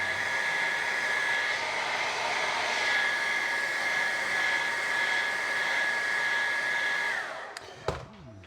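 Heat blower running steadily on peeling red car paint lacquer, a constant close whooshing roar with a faint whine, then switched off near the end with a brief clunk.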